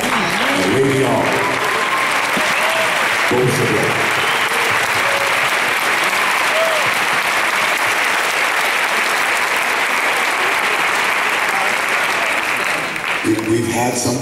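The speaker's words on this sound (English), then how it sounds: "give this honorable man of God a round of applause" Sustained applause from a celebration audience honoring a guest, loud and dense for most of the stretch, with a voice speaking over it near the start and again at the end.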